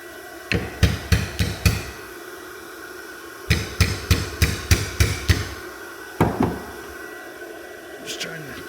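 Hammer blows tapping at a stuck hinge part from a sagging, hard-to-open Jeep door, struck in quick bursts of four or five sharp, loud metallic hits with pauses between, then a single blow and a few faint taps.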